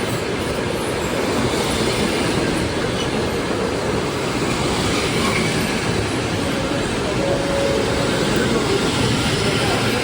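Steady, loud rumble of a passenger train travelling in Ukraine, heard from inside with continuous rolling wheel noise and faint squeals, no break throughout.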